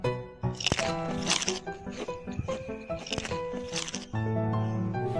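Crispy fried chips made from lumpia wrappers crunch in a series of sharp bites, several distinct crackling bursts spaced irregularly, close to the microphone over a light musical background.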